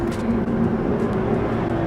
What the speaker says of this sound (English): There's loud trucks like that drive by.